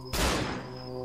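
One loud gunshot fires in the horror video game Cry of Fear, a sudden sharp blast that fades into a short ringing tail.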